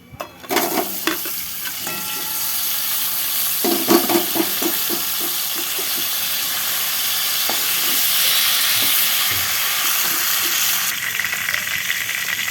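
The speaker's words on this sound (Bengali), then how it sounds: "এবার ভাজা মাংসগুলো ওই কড়াইয়ে দিয়ে দেবো।" Fried chicken pieces for lemon pepper chicken are tipped into hot oil in a wok, raising a bright, steady sizzle with clattering clicks and scrapes of stirring, loud and close, with no talking.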